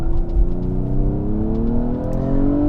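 A 2021 Nissan Maxima SR pulls hard under acceleration, its Xtronic CVT producing a steady, rising drivetrain whir over the engine drone, heard close from inside the car with no talking.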